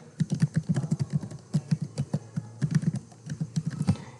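Rapid, uneven keystrokes on a computer keyboard, close and fairly loud, clattering in quick bursts with short pauses between them and no voices.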